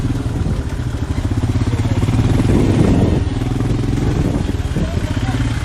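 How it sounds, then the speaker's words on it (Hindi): Motorcycle engine ride on a snowy road to Solang Valley near Manali in winter, a steady close mid-pitched engine drone with rattling and wind, rising slightly midway, continuous throughout. "बाइक बहुत ज़्यादा स्लिप कर रही है"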